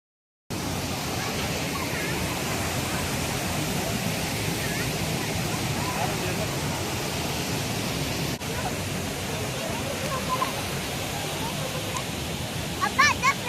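Roaring water pours steadily at Hogenakkal waterfall, a dense, continuous rush that stays loud and even from start to finish, with a few faint voices and small clicks surfacing near the end.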